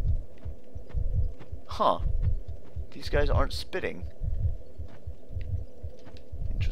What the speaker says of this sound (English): The heartbeat is getting stronger.